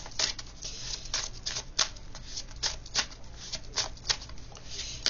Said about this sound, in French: Une carte du Lenormand.